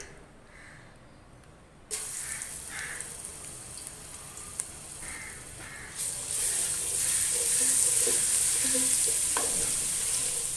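Oil sizzles loudly as ginger garlic paste hits the hot pan, the frying hiss swelling and continuing steadily with faint stirring clinks.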